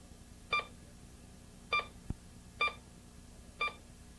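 Bounty Hunter Pioneer 202 metal detector beeping as a quarter passes the coil, four short, clear electronic beeps spaced about a second apart against a quiet background.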